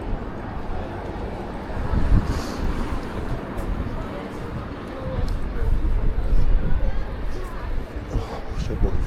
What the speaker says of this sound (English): the wind catches you around here